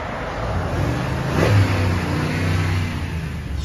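A 2017 Ford F-250 XLT with a 6.2 L engine is revved once while parked, rising from a steady idle to a loud mid-clip swell and then settling back to idle.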